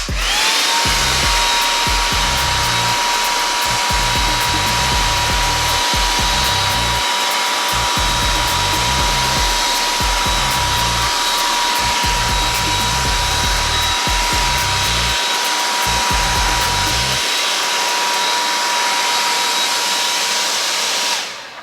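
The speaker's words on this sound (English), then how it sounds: "we're gonna do this with the blow dryer" A blow dryer runs loudly and steadily close by, a constant airy whir with a low rumbling undertone that drops away near the end.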